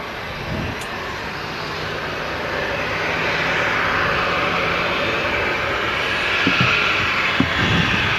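An airliner slows on landing at Manchester Airport, a broad, loud engine roar building steadily and holding, with a few faint knocks near the end.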